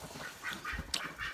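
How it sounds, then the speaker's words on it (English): A handful of short, nasal duck quacks and honks sound close by in quick succession, with no talking. "Ducks. Who doesn't love ducks?"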